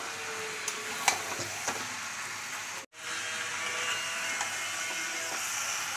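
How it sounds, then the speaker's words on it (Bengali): Chicken pieces fry in a wok with a steady close sizzle, a few sharp scrapes and clinks from stirring scattered through, and one brief gap in the sound partway through. "এখন এই চিকেনগুলো কড়ার মধ্যে দিয়ে দেবো। চলো ভালো করে একবার নেড়ে নিই।"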